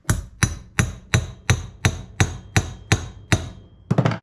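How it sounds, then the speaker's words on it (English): A ball peen hammer lightly taps a tapered roller bearing hub for a '55–'57 Chevy, ten evenly spaced sharp metallic strikes at a steady rhythm, close and clear, ending in a quick flurry of rapid taps. "we're going to go ahead and lightly tap with a ball peen hammer"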